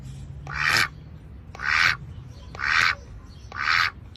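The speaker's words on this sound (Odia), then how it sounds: "ଡକ୍, ଡକ୍ ବତକ," A duck quacks four times, close and clear, with evenly spaced, nasal calls about one second apart against quiet background hiss.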